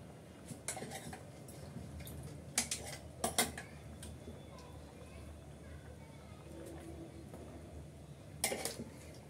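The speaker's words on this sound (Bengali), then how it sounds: "এখন নলাগুলো আমি উঠিয়ে এখানে দিয়ে দেব ডালের সাথে।" Metal spoon and pot clinks ring out sporadically as cooked beef shank pieces are lifted into a pot of dal, a few sharp knocks with quiet gaps between.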